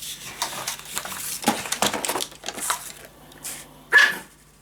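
Dogs bark and yip in short, irregular bursts at moderate distance, with scuffling noises between barks, sounding playful rather than aggressive.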